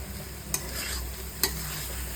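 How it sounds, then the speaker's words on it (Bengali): Spice mix being stirred into cabbage and potato cooking in a pan: a continuous close sizzle with two sharp scraping clacks of the spoon against the pan, no voices. "ভালো করে মিশিয়ে নেব"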